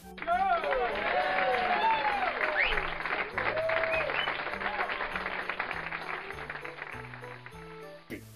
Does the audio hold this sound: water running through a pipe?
no